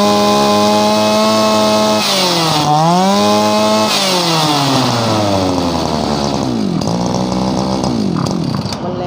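Shindaiwa S26 petrol brush cutter running loud and close, its two-stroke engine whining and revving up and down in rising and falling sweeps.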